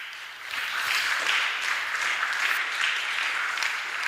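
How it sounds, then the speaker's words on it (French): Steady applause from a crowd at a Sunday church gathering, dense, even clapping sustained for about four seconds with no voices over it. "On acclame pour ceux qui prient."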